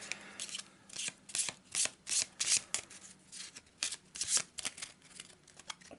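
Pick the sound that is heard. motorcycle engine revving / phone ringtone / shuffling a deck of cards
shuffling a deck of cards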